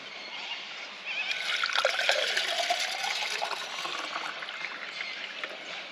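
Water trickles steadily into a large bottle of about five litres during a River Murray kayak trip, starting after a quiet second and running continuously, close and fairly loud.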